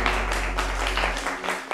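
A studio audience applauds a guest being welcomed onto a talk show, with bursts of clapping rising and falling over a low rumble.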